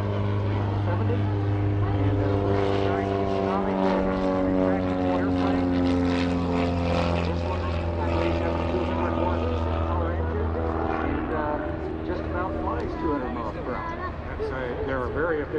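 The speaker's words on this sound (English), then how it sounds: "It looks like coming here is a Cessna 195." A Cessna 195 propeller airplane engine drones steadily with a deep, throbbing hum, its pitch slowly shifting as it passes nearby during an airshow parade, while someone talks over it.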